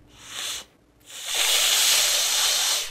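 A mighty rushing wind sound effect: a short hissing gust, a brief pause, then a longer, stronger whooshing rush that holds steady before fading slightly.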